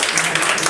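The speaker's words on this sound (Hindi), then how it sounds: "बहुत बहुत शुक्रिया इतना तालियां बजाने के लिए" A poetry audience applauding during a romantic recitation, a short steady patter of clapping, fairly loud and continuous with no voices over it.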